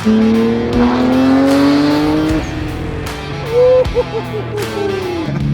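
A Nissan Skyline GT-R R33 engine revs loud and close, its pitch rising and falling through gear changes with a sharp exhaust note and a brief tire chirp.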